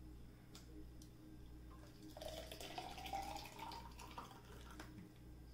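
Homemade carrot juice, made from two medium carrots, poured into a glass: a faint, roughly two-second gurgling pour whose pitch rises as the glass fills, set over a low steady background hum.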